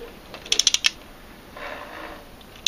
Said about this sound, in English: You twist that one nut round using the appropriate socket,